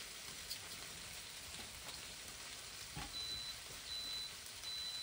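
Faint electronic beeps from an OptiGrill repeat a few times toward the end, high and thin over a steady hiss of background noise.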